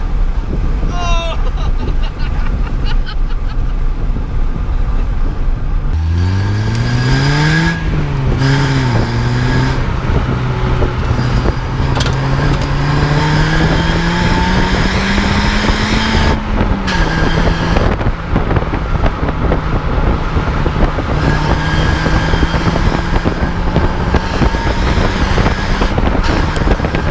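2003 Citroen Saxo VTS engine climbing through the revs while driving, a rising tone that swoops through gear changes and then holds a steady drone under road and wind roar, with voices over it.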